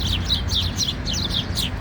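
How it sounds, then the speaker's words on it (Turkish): Birds chirping and playing near a clock tower in Sincan, a quick series of bright, high tweets repeating in short bursts over a low outdoor rumble. "Kuşlar oynaşıyor, cıvıldaşıyor."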